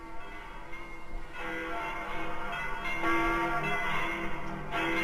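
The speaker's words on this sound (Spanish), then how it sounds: "tiró de la cuerda y se estremeció de emoción al escuchar cómo se propagaba el repiqueo de la campana por el interior del edificio" Bell tones ring and reverberate inside a building as a cord is pulled, several moderately loud, sustained strikes whose echoes overlap and swell toward the end.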